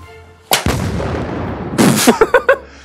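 Nerf blaster shots fired at a cardboard box: a loud thump, then a sustained noisy burst, a second rush, and three or four quick sharp pops in a row, all close by.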